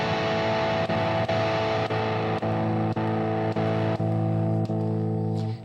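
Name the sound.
guitar through Fractal FM3 switching preset scenes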